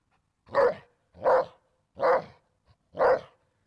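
Four evenly spaced puppy barks, high and yappy, each short and clear with brief pauses between, close by and alone.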